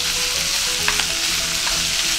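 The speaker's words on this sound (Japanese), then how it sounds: "ここでキャベツを入れていきます" Pork belly and chopped cabbage fry in a pan with a loud, steady sizzle and crackle that stays close and unbroken, along with a few faint stirring scrapes.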